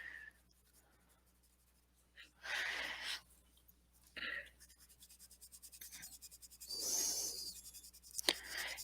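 A stiff colored pencil shades across paper in scratchy strokes that come in short bursts and longer passes, close and faint, with breathing or quiet voice sounds in between.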